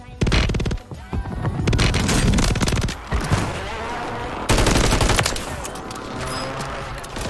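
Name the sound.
gunfire from the video game Call of Duty Warzone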